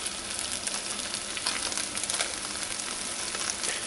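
Chicken pieces frying in a pan on their second side after being flipped, a steady dense sizzle and crackle with no talking, close and even throughout.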